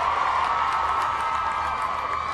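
A massive crowd gathered outside the Harry Potter film premiere cheers continuously, a dense wash of distant shouts and whoops with no clear breaks.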